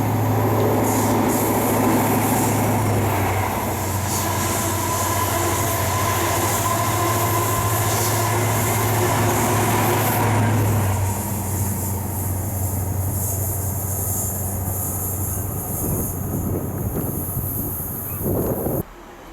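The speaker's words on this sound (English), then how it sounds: "This cross-country HST heads for Leeds." A CrossCountry HST train heading for Leeds on the line near Bristol Temple Meads, a loud, steady rumble of passing carriages and engine drone that eases off partway through, with faint high wheel squeal and no voices.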